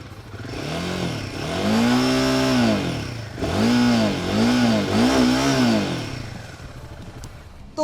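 A 2024 Royal Enfield Himalayan 450's exhaust revs up three times from idle, each a loud rising and falling blip close by, settling back to a steady idle between.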